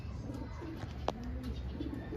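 Domestic pigeon softly cooing outdoors on an afternoon, a faint low murmuring coo against steady background hiss, distant and without talk.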